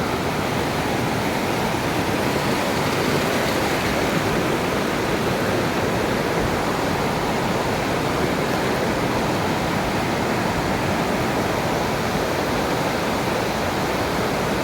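A waterfall in Caquetá, Colombia roars with a loud, continuous, broadband rush of falling water, unbroken and steady throughout with no voices.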